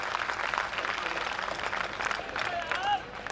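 An audience claps at a Hindi comedy poetry gathering, a steady burst of crowd applause with a voice talking over it.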